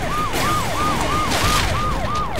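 A police car siren wails in Saints Row: The Third, with a fast, rising and falling yelp that cycles steadily and loudly over road noise.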